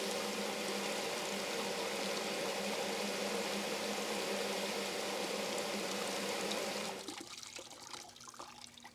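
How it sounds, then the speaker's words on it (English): A steady hiss of water spraying from a garden hose into a 3D-printed downspout filter for several seconds, then cutting off, leaving faint dripping. "test this out with some water from the garden hose"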